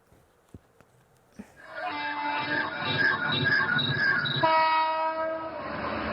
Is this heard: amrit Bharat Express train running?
yes